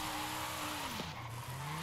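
A drifting car in the Forza Horizon 5 racing game, a sustained tire squeal with engine whine that dips and shifts pitch mid-slide, loud and continuous with no talking.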